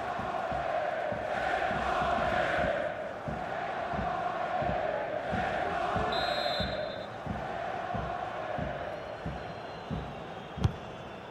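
A steady stadium crowd roar from the FIFA 22 video game during Borussia Dortmund vs Hoffenheim in the Bundesliga, a continuous dense murmur with rhythmic thumps, while a commentator talks over it.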